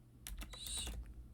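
Several quick keystrokes on a computer keyboard, typing a short command at a workstation, close and fairly soft, in a burst of about six strikes with no talking.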